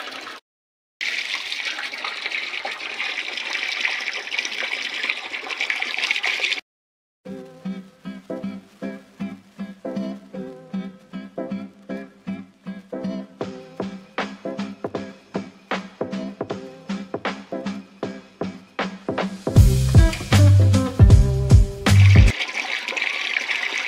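Water filled into a household air cooler, a loud gushing stream that stops, then rhythmic sloshing pours and splashes, ending with a heavy close rush of water; no speech.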